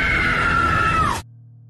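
A woman lets out one sustained, high scream in an Indonesian horror film, loud and alone, cutting off abruptly into a low hum.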